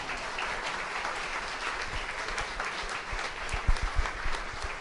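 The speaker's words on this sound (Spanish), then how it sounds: "Aplauso para nuestro Padre Dios." Congregation applauding during a Spanish-language Catholic homily: sustained, fairly soft clapping from many hands in a church, with a few sharper, louder claps near the end.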